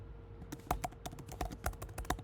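Quiet, irregular clicking of keys being typed on a computer keyboard, a quick uneven run of keystrokes close by.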